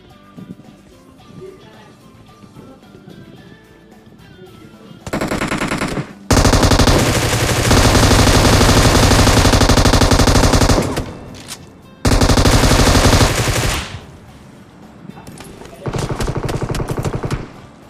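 Machine gun fire in the mobile game PUBG Mobile, loud sustained automatic bursts starting around five seconds in and returning in several long volleys, after a quieter stretch of faint background game sound.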